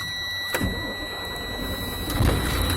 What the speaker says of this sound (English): I proceed to start my engine now.